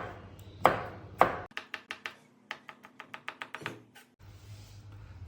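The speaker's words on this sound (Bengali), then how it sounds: "এটার 2 ভাগ করে নেবো" Knife cutting a green capsicum in two on a cutting board, two firm thuds followed by a quick run of sharp rhythmic chops, close and clear with no talking.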